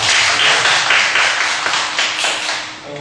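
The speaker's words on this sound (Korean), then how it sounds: "박수 한번 합시다." Congregation clapping together in a church during an afternoon Sunday service, a loud close wash of many hands in quick uneven rhythm, sustained for several seconds and easing slightly at the end.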